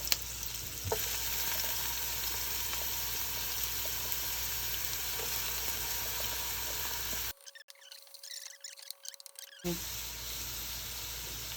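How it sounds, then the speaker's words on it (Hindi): Onions and garlic sautéing in a pan, a steady close sizzle and hiss with occasional stirring scrapes, briefly dropping out near the end before resuming. "इसमें मैं प्याज डाल दिए मैंने, इसको सौते करेंगे थोड़ा सा"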